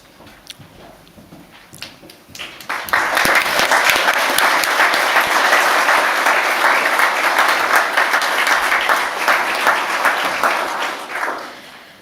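An audience at a school senior prizegiving applauds the prize winners, with scattered claps swelling after a couple of seconds into sustained, dense applause that tapers off near the end.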